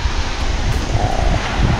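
Strong sea wind blows steadily at a seaside spot with pandan plants, a continuous rushing roar with low buffeting gusts against the microphone and possible surf beneath, no one talking.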